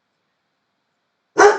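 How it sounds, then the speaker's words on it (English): A pet dog named Marley barks once, sharp and close, at someone at the door, breaking out of total silence near the very end. "oh, that's my dog."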